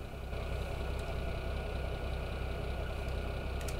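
A tractor engine idles steadily at a sawmill near a wood chipper, a continuous, even low rumble that runs uninterrupted from start to finish with nothing else over it.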